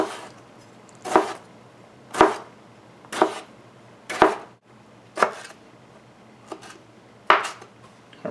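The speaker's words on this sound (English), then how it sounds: "You also need 2 Roma tomatoes finely chopped for this recipe, but just finely chop them." Two Roma tomatoes being finely chopped with a knife on a board, about eight sharp, evenly spaced chops roughly a second apart, close and clear, with no talking.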